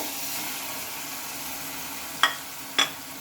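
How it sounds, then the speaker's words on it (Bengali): Spice masala sizzles steadily in oil in a pan as soybean chunks go in for a potato and soybean dish. The frying hiss is constant, and two sharp clinks come near the end. "এখন আমি এই যে সোয়াবিনটা এখন এটার মধ্যে দিয়ে নেব"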